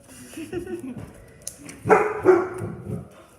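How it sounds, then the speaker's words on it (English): A pet dog barks indoors at home in a few short yips and barks, mid-distance and moderately loud, with a person's voice talking alongside. "That's my dog barking."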